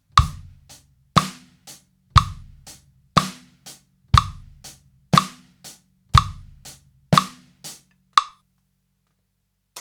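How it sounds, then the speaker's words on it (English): An easy eighth-note drum kit groove on hi-hat, snare and bass drum plays in a steady, even rhythm, close and moderately loud, with no voices, ending on a single final hit before a moment of silence. "Now the beat's going to sound like this."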